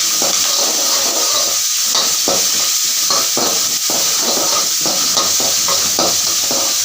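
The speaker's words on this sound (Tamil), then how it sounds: "இஞ்சி பூண்டு வெங்காயமும் நல்லா வதக்கணும்." Onions, ginger and garlic sautéing in a pan for kothu parotta, a loud steady sizzle with repeated scraping stirs of a spatula throughout, no voices.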